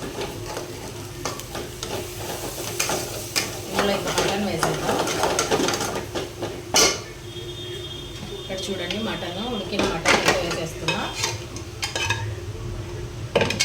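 Meat frying in oil in a covered pan for a mutton curry and chicken fry, a steady close sizzle with scraping and utensil clatter on top, while people talk over it.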